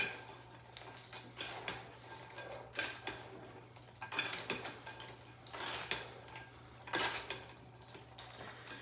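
A big spoon and other utensils clatter against dishes while a panzanella bread salad is assembled, with sharp clinks and scrapes coming in irregular bursts, close by, with no talking.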